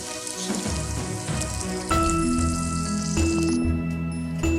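Water is added to a pan of Pallipalayam chicken masala, giving a steady loud rushing sizzle and patter that swells suddenly midway as more liquid hits the hot pan, continuous with no talk.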